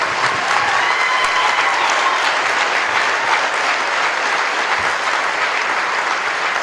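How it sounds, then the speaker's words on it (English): Military veterans in an audience of a Boone County, Kentucky rally receive sustained, dense applause from a large crowd, loud and steady for several seconds with no break. "Applause,"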